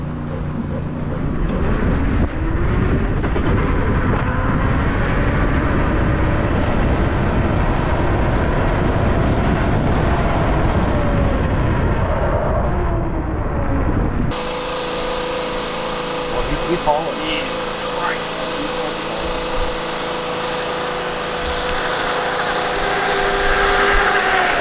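Electric Honda Grom motorcycle pulling hard under strong torque; a loud continuous electric motor whine climbs and holds with rushing wind noise, then the tone shifts to a steadier hum, with a voice speaking over it.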